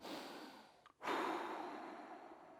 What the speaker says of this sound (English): So we focus on our breathing, don't we?